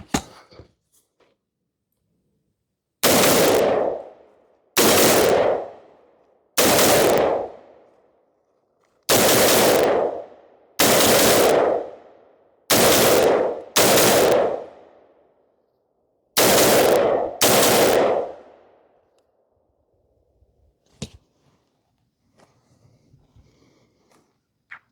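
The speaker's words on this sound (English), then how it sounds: "Let's put some more rounds to this thing and see how she runs." A ZRO Delta Zulu 2 pistol firing rounds, with nine loud, close gunshots in uneven spacing, each with a short echoing tail, followed by quiet handling noises.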